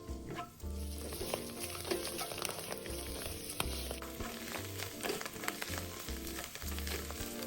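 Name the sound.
shiitake mushrooms stir-frying in fried scallion oil in wok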